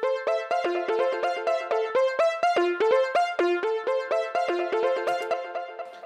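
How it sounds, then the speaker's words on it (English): A bright synth arpeggio repeats a quick pattern of plucked notes, each one echoing back and forth in a steady, bouncing rhythm, with no voices. "It's just kind of playing this arpeggio sequence pattern."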